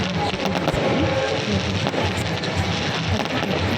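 Firecrackers bursting outdoors near a riverside temple in Nellore, heard as a dense, continuous crackle of sharp pops and rumbling bangs that stays loud throughout, with no talk over it.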